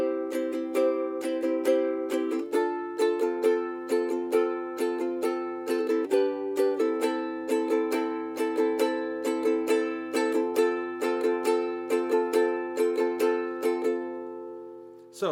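Steady ukulele strumming in a repeating down-down-up rhythm, bright chords ringing evenly throughout.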